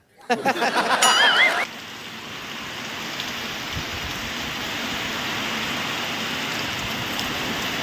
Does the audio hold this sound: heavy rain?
yes